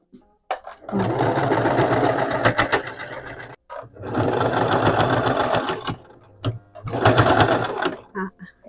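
Three bursts of a sewing machine stitching rapidly, each running a couple of seconds with short pauses and small clicks between them.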